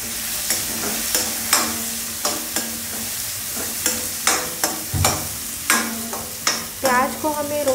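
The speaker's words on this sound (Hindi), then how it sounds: "प्याज को हमें रोस्ट करना है काफ़ी, लगभग 5 मिनट के लिए" Onion and garlic frying in a pan for a smoky eggplant bharta, a steady sizzle broken by frequent sharp scraping stirs at an irregular rhythm, close and fairly loud with no talking.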